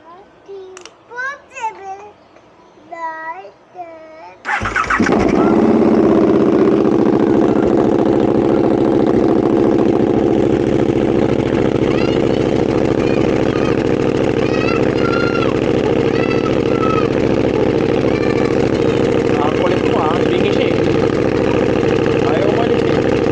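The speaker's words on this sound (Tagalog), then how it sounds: "So start ko yung motor, Jag." A voice is heard briefly before a motorcycle engine fires up abruptly, then settles into a loud, steady idle close by that runs uninterrupted to the end.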